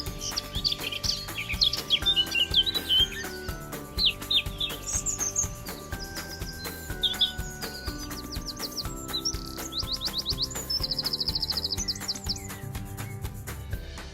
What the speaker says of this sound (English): The buggy nibbles and the mealworms here attract a whole host of species, including robins, blue tits and also the occasional blackcap